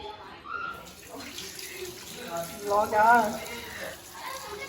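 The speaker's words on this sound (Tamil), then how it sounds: "சிக்கன் வந்து ஃபுல்லாத்தையும் வாஷ் பண்ணுறாங்க" Tap water running steadily while raw chicken is washed, a continuous splashing stream with some handling, people talking over it in the background.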